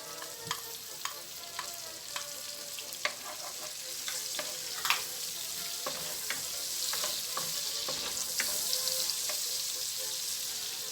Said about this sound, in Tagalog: At this point, pwede na natin idagdag ang ating onion.